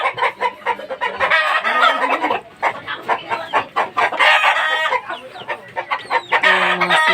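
A mother hen clucks close by among her chicks in the late afternoon, her repeated low clucks mixed with their high, busy peeping.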